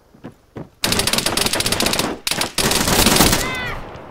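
Arma 3 gameplay gunfire: two sharp single shots, then long rapid automatic bursts that rattle loud and close, briefly stop, and resume with another sustained volley.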